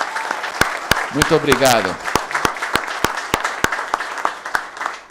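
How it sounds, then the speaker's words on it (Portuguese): Applause for city councillors at a municipal council event in Brazil, a burst of clapping from a crowd that swells and then thins to scattered claps, with someone speaking over it and thanking the audience. "eu queria uma salva de palmas para os vereadores aqui da nossa cidade"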